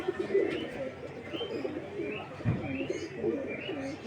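Giribaz pigeons for sale coo softly in repeated low rolling calls, with a few faint chirps from other birds over steady background noise.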